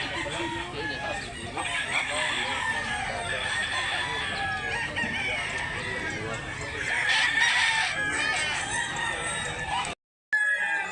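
A native gamefowl rooster crows on a farm, repeated cock-a-doodle calls mixed with clucking from other chickens nearby, with people talking over the birds and a brief dropout near the end.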